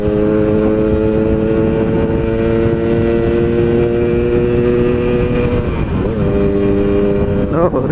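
A motorcycle with a ported exhaust pulls hard in third gear. Its loud, close engine drone holds a strong steady tone, with a brief pitch shift near the end.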